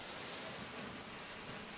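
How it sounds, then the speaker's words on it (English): Giessbach waterfall in Switzerland in spring before the snow melt, a steady broadband rush of falling water that stays even and unbroken throughout, fairly soft with no voices. "The waterfall itself is also not yet very powerful and loud, because the snow melt has not yet really started in the upper areas."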